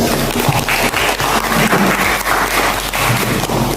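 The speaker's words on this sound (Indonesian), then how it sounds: "Oke, beri aplaus." Classroom applause from students during an Islamic religious education lesson, a dense continuous patter of many hands clapping, steady and fairly loud throughout with no break.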